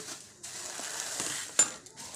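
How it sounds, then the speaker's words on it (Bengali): Semai vermicelli frying in ghee in a wok, with a faint steady sizzle, soft scraping and a few light clinks from stirring. "এবার আমি সেময়টাকে সুন্দর করে ভেঙে নিয়ে ভেজে নেব"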